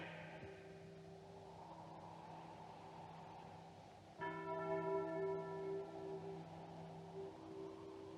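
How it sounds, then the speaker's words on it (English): A church bell in a Western film tolls with long ringing overtones, then a second louder strike at about four seconds that hums on and fades slowly, with no voices. "stop that bell ringing"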